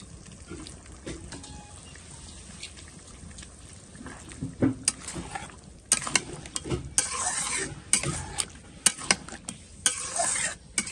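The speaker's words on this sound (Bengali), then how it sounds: "আমি মাংসগুলো দিয়ে দেবো মাংসটা ভালো করে কষাবো" Meat being stir-fried with spices in a pot of oil, heard as repeated vigorous stirring and scraping over a steady sizzle that grows louder and busier midway through, close up with no talk.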